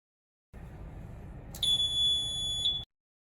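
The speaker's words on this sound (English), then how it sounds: "Confirm 3 beeps that tells reset was completed successfully." A Tohatsu MFS40/50/60 outboard motor beeps to confirm its oil change indicator reset, sounding one sustained electronic tone for about a second over steady background noise, then cutting off.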